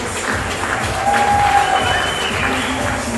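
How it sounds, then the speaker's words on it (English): At a baseball game between Adelaide Bite and the BaseballSA Allstars, a crowd gives brief, moderately loud applause mixed with some cheering and background murmur, a faint whistle-like tone rising briefly in the middle. "Hey, round of applause to Tom Lynch."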